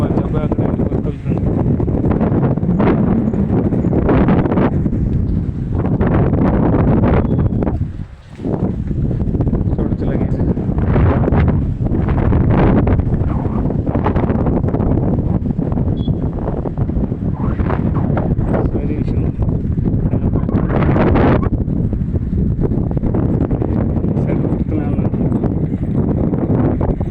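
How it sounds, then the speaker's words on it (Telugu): While riding a bicycle on a long-distance trip, wind buffets the microphone in a loud, continuous rumbling roar with gusting surges, and a brief lull near the middle. "చూస్తున్నారు గాలి సౌండ్ కూడా అట్లే వస్తుంది"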